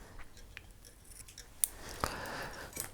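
Small scissors snip a feather while tying a fly, a few sharp, quiet cuts standing out against a soft background hiss, close up with no talking.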